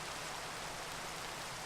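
Rain in the video game Minecraft, a dense, even hiss of falling water with no breaks, steady and moderately loud for the whole short stretch.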